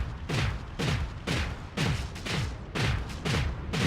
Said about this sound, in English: Switch to the ion cannons and disable some of the weapons on the Enforcer.